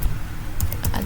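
Typing a command on a computer keyboard, a short run of crisp, close key clicks without any voice.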